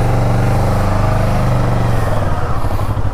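A Kawasaki Versys 600cc motorcycle engine runs steadily and loudly up close, with a low rumble that shifts pitch slightly near the end as it is ridden.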